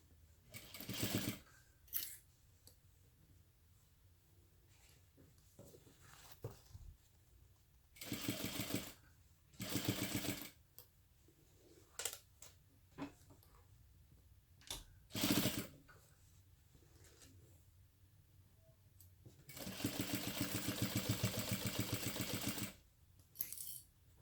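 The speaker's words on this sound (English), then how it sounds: "Continue sewing along the bottom." Several short bursts of a sewing machine stitching along the bottom of a crossbody bag end with one longer steady run, the motor whirring close and clear between quiet pauses and small clicks of handling.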